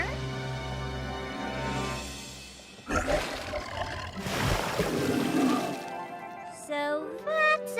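A deep, rumbling cartoon roar from a tri-horned bunyip in My Little Pony swells up mid-clip, loud and drawn out, amid music and splashy noise, followed by squeaky tonal flourishes.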